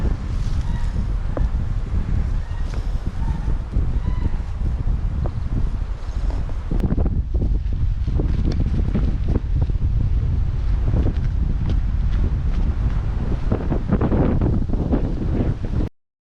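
Strong wind buffets the microphone with steady roaring gusts at Belwood in Sri Lanka, loud and continuous throughout, with no speech.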